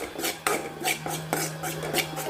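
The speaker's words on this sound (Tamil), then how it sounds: "பக்கத்தில் இருந்து லைட்டாக கிண்டி விட்டு ஸ்டவ் வேணால் ஆஃப் பண்ணிடுங்க" Spice powder stirred in hot oil in a kadai, a steady scraping and rubbing of a spoon against the pan in repeated strokes, close and fairly loud, with a low hum underneath.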